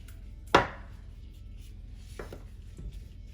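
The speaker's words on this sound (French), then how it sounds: "Maintenant je vais passer à la découpe de mes courgettes." A knife slices through a zucchini on a cutting board: one sharp, close chop followed by a couple of softer cutting taps, with no voice.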